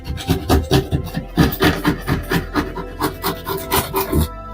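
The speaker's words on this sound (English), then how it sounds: "your knife has to be up and down or you're actually cutting an angle into the drywall" Utility knife sawing through drywall in quick rhythmic rasping strokes, about a dozen back-and-forth scrapes, loud and close, stopping abruptly near the end.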